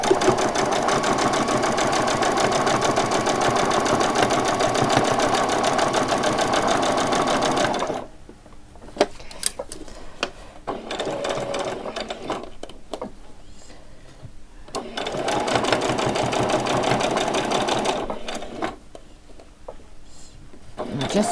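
A sewing machine back stitches along the edge of fabric for a frilled top, running in a long steady whir, then short stop-start bursts, then another sustained run, close and loud.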